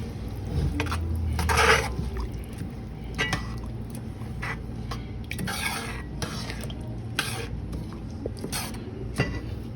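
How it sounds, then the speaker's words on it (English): A spoon scrapes and stirs through Spanish rice in a pot in repeated strokes, up close, with light clinks against the sides and no talking. "So we're going to mix that in there."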